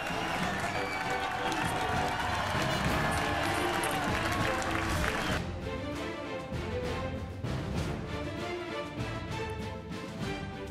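Roadside crowd cheering and clapping as world champion Mathieu van der Poel finishes to win the 121st Paris-Roubaix, a dense roar of applause under a commentator's voice.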